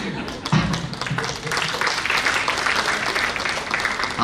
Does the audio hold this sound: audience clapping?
yes